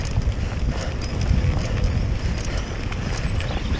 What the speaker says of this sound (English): it's getting a bit breezy